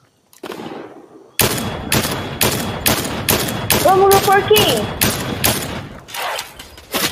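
Fortnite gunfire: loud bursts of rapid shots in irregular volleys, with a brief electronic beeping tone midway and a person speaking briefly.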